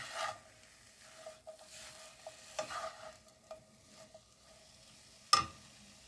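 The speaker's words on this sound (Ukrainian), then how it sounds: "а буду смажити цибульку" Quiet sizzling of onions frying in oil in a pan, broken by soft scrapes and clicks of stirring, then one sharper clink near the end.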